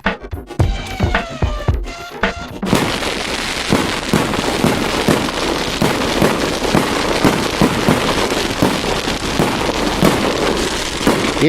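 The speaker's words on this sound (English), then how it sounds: "Did you hear that? Fireworks, by the way." Fireworks going off near a rally stage: dense crackling bursts and pops at first, then a continuous loud rain-like crackle of many small explosions lasting several seconds, with no speech.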